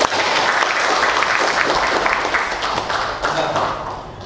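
A dense, steady round of applause from a group, many hands clapping together continuously at close range, fading slightly at the end.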